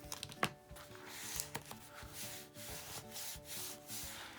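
Soft scraping and rubbing while washi tape is trimmed on a mini album made from a book, with a few sharp taps at the start, close and steady.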